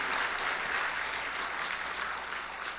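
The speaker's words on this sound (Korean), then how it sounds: "우리 박수로 하나님 앞에 한번 영광 돌리겠습니다." A church congregation claps together in sustained, dense applause at a Sunday evening worship service, steady and fairly loud from start to finish, with no voices rising above it.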